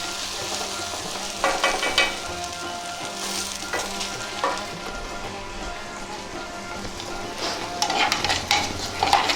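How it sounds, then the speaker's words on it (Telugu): Potato fry sizzles in a hot pan while a spatula stirs it in scattered scraping strokes, a steady crackling hiss underneath, close and moderately loud with no voices. "బంగాళదుంప వేపుడు కూడా ఒకసారి ఇలా కలుపుకోవాలి, లేకపోతే వేడికి అడుగంటిపోద్ది, మాడిపోతుంది."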